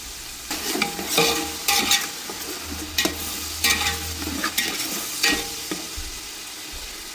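Ginger and garlic paste sizzles in a pot while a spoon scrapes and stirs it in repeated bursts, the sharp scraping strokes rising over a steady frying hiss with no talk.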